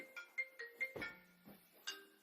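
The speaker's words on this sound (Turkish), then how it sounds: "Telefon çaldı" A phone ringing indoors, a short rising melodic ringtone phrase of several bright tones played once, fairly quiet and heard alone without talk.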